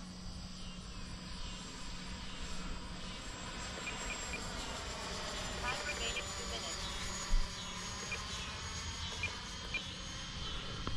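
A Freewing Intruder RC jet with an AvantiS v2 ducted fan and motor flies at about half throttle with gear and flaps down, giving a steady, fairly faint whooshing whine with muffled talk underneath.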